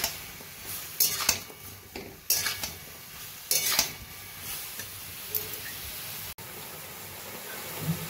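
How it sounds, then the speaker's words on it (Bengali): Tomatoes with sugar and vinegar cooking down for homemade tomato sauce, a spoon clattering and scraping against the pan in bursts over a low sizzle, followed by calmer stirring. "টমেটোগুলোকে রান্না করে নেব।"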